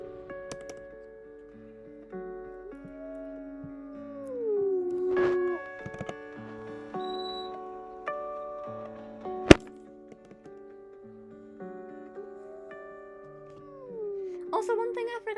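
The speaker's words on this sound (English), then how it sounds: "time for a howl." Wolf howls in a video game about a wolf pack: two long, smooth howls that rise and then slide downward, one early and one near the end, with scattered keyboard clicks and short knocks in between.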